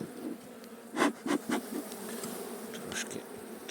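Honeybees buzz in a low, steady drone close by at a hive in spring, with a few louder bursts as individual insects pass near.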